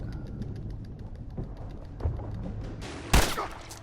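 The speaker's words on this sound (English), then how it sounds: "I shot the hell out of that guy, huh?" Gunfire in The Last of Us Remastered: one sharp, loud shot bursts out near the end over a steady, busy game ambience.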